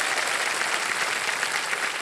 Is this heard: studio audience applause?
yes